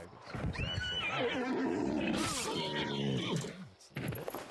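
A saddled horse in a video game gives a loud, close neigh, a long rising and falling whinny that ends in snorting breaths.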